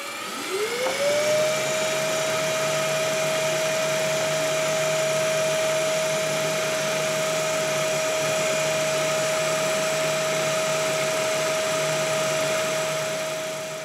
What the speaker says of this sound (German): werde mal da dieses 40 mm Loch reinbohren